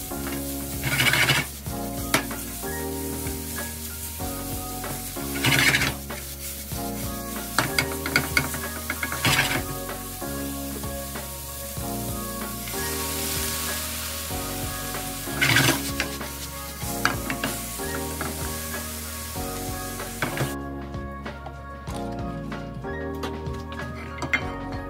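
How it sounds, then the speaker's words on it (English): Tofu frying in oil in a pan for a vegetarian egg roll: steady sizzling with periodic stirring scrapes and pan clinks, nearby and fairly loud, no voices. "We're just gonna add a little bit more oil and add our tofu to this."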